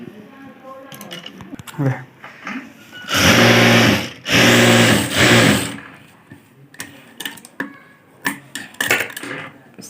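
A sewing machine stitches a blouse in two loud, close bursts of about a second each, with intermittent handling clicks and a voice speaking around them.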